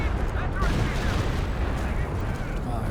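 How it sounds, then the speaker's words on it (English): Continuous gunfire and booming explosions from a World War II–style online match between Allied and Axis teams, dense and loud throughout with a caster speaking over the battle. "They are shooting."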